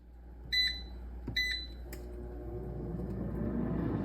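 An air fryer cooking steak fajitas: two pairs of electronic beeps start it, then a short click before a steady whirring fan hum builds and continues.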